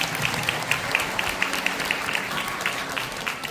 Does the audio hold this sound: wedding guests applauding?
yes